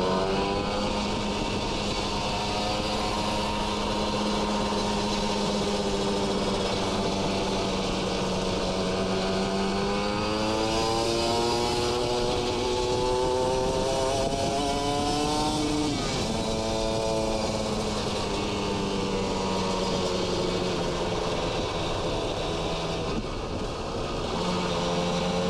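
A Kawasaki Ninja RR two-stroke motorcycle fitted with an R9 Neo Mugello carbon racing exhaust revs and pulls away, its raspy tone rising and falling in pitch as it shifts through gears, loud and continuous throughout.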